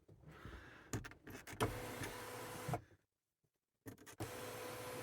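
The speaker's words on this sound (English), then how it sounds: "The pan roof is working as well." An electric panoramic sunroof on a part-exchanged car motors open with a steady whirring hum and intermittent mechanical clicks, stopping briefly into near silence before the motor starts again.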